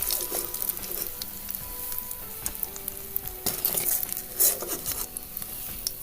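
Pieces of fish frying in hot oil in a pan, a steady crackling sizzle with scattered pops and occasional stirring and utensil scrapes, close up and without talk.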